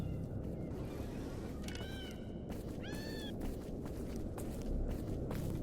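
A cat in the video game Stalker Gamma meows twice, a short plaintive call followed by a longer one, heard over a steady rumbling ambient background with faint footstep-like shuffles.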